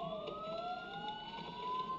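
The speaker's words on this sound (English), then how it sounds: "Sirens. The police." Police sirens wail in the Batman: Arkham Asylum video game, a steady rising-and-falling tone held over a low rumble for the full two seconds, fairly quiet and with no talk.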